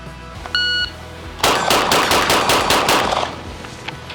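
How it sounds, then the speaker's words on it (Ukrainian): A short electronic shot-timer beep, then a rapid series of about eight sharp pistol shots in quick succession during a timed shooting drill, loud and close. "І стріляємо з такої відстані."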